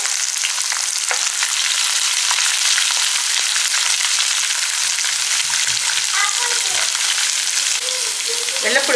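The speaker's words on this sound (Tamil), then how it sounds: "கடுகு கொஞ்சம் பொரியட்டும்" Mustard seeds and whole small garlic cloves fry in hot oil, a constant bright crackling sizzle throughout, with faint brief clatter of utensils and a few soft background murmurs.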